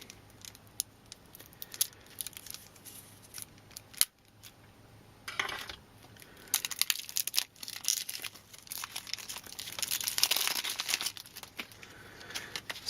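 Plastic wrap is torn and crinkled off a Secret Hitler board game card deck, heard as irregular close crackles, snips and rustles that grow busier toward the end.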